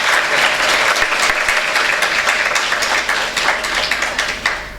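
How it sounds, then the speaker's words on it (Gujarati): Audience at a training workshop applauding, a dense, loud burst of many hands clapping together that holds steady and then tapers off slightly at the end. "જેમના માટે ખાસ તાળી થઈ જાય"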